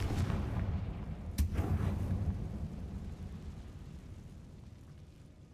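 A Confringo fire spell in Hogwarts Legacy erupts as a loud, deep explosive blast with a sharp burst near the start, then a rumbling roar that slowly fades over several seconds.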